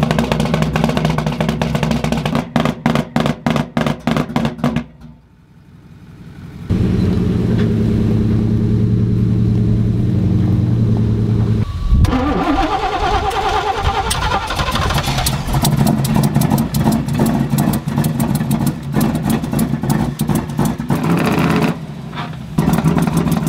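A lifted truck's engine is cranked repeatedly with a rapid rhythmic starter whir, falls quiet briefly, then catches and runs loud and rough with uneven idle pulses.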